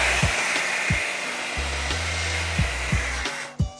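A hair dryer runs with a steady, bright blowing whoosh, close by, while a series of low thumps and bumps sound under it and no one speaks.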